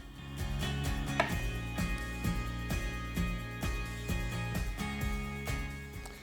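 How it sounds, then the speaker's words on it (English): A knife cuts a few slices from a tomato for a classic tomato pie, giving a steady series of close, crisp chops against a cutting board with no talking. "And I think I want to use one more tomato. Maybe just a few slices from this one."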